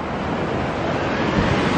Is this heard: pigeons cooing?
no